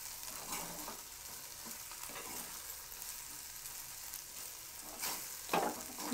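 Sliced okra (lady's finger) fries in a pan with chili powder just added, a steady close sizzle broken by scraping stirs, with a louder clatter of the spatula near the end.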